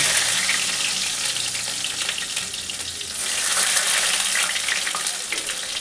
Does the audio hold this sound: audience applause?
no